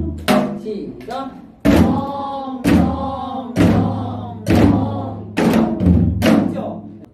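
A Korean drum plays a gutgeori rhythm pattern as accompaniment to the folk song Han River Taryeong, with about seven loud, close, booming strikes in a steady, swinging pulse.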